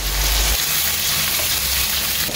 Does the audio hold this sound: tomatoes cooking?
yes